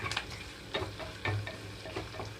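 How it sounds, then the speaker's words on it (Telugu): Onions and ginger-garlic paste fry for mung dal kichidi. A quiet, steady sizzle plays under a few sharp taps and scrapes of a spoon against the pan. "ఇప్పుడే నేను ఇందులోకి అల్లం వెల్లుల్లి పేస్ట్ కూడా వేస్తున్నాను"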